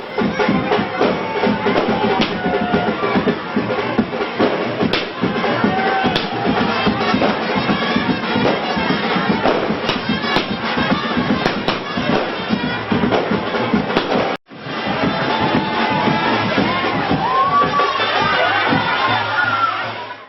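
A dense crowd at the Sonbadevi village fair in Payalipada, Trombay, clamors and cheers continuously with music, a loud, packed wash of voices that drops out for a split second before resuming.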